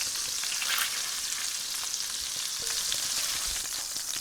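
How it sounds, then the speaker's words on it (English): Chilies and garlic saute in hot fat for a chicken paprikash, giving a steady, close, even sizzle throughout with no pauses and no talk. "Just allow this to saute and scent the entire fat that we have out here"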